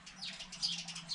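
Small garden birds squabbling and chasing each other among potted plants, a brief flurry of high chirps and tweets at moderate distance over a low steady hum, no voices.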